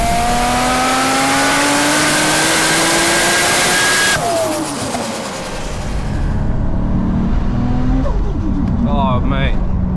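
A 700 bhp Nissan R33 Skyline GT-R with a turbocharged six-cylinder engine pulls hard through rising gear sweeps, drops briefly at a shift, then climbs again, loud and close, with someone talking over it.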